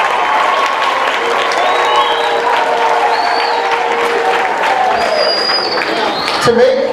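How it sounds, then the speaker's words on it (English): Students in a high school gathering applaud their teachers, broad clapping from a large crowd with some cheering and voices mixed in, sustained throughout and swelling briefly near the end. "Give a round of applause to the teachers."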